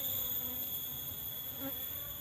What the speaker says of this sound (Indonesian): Sang lebah. Tengok itu berebutan itu, berkelahi itu, tengok.